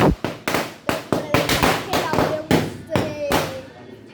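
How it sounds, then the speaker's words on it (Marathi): A rapid string of firecrackers going off outdoors, about a dozen sharp cracks and thumps in an irregular rhythm, loud and fairly close, with no voices. "बघ तिकडे फटाके लावले"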